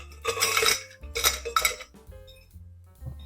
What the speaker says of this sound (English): And we will now add our ice.